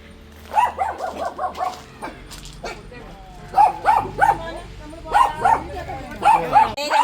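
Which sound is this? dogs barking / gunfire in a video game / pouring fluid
dogs barking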